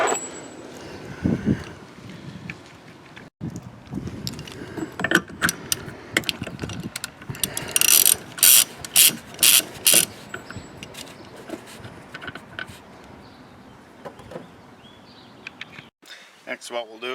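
A ratchet wrench works a 22 mm fitting on the brake master cylinder of a Ford F150, with a run of quick metallic clicks in the middle amid clanks and handling noises, close up, and someone talking in the background.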